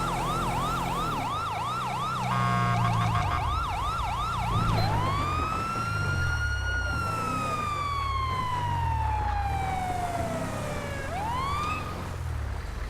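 An ambulance siren at an emergency scene in GTA V wails loud and close, cycling through rapid yelps before shifting into long rising and falling wails over a low engine rumble, with no talking.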